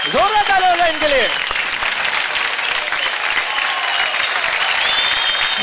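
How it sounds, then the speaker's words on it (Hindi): Loud, sustained audience applause for the dancers at a televised dance competition, with whistles and cheering voices rising over the clapping near the start. "जोरदार ताली हो जाए इनके लिए।"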